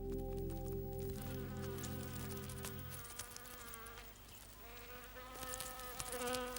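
Bees in a laboratory setup, each attached to a sniffer tube, give off a steady insect buzz with wavering drone tones, close and continuous throughout, no talking.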